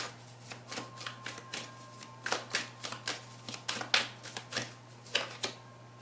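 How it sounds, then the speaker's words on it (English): Oracle love activation cards being shuffled and pulled, a quick run of crisp, close riffling snaps and taps over a faint steady hum. "I'm going to pull some love activation cards."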